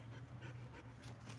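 A dog pants rapidly and rhythmically up close, with faint whimpers mixed into the breathing, no voices present.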